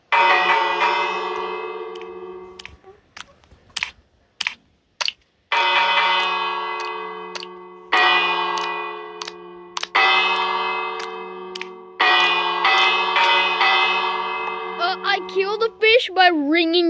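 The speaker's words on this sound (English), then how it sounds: "By ringing the bells." Sustained ringing bell tones sound in several long bursts separated by short sharp clangs and pauses, with a fluttering electronic tone at the end.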